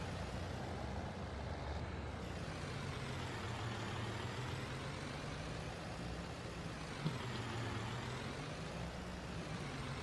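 A heavy truck idles and creeps backward toward a trailer in a trucking sim, a low steady diesel rumble with a slight rise and fall in pitch, fairly quiet and continuous, no voices.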